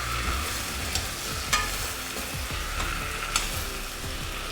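Chicken colombo simmering in a pot is stirred with a utensil, giving a steady sizzle and scraping with a few sharp clinks against the pot over a continuous bubbling bed, no voices.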